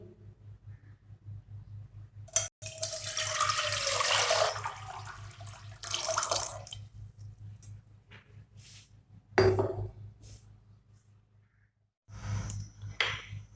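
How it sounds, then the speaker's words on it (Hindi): Two litres of water poured into a cooking pot for Kabuli pulao, a steady rushing splash lasting a few seconds over a low background hum, followed by a few faint clinks and knocks. "सबसे पहले हम इसमें ऐड करेंगे 2 लीटर पानी।"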